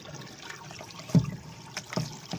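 Water being emptied out of a sink during cleanup, a soft trickle with two brief gurgling splashes, close and fairly quiet.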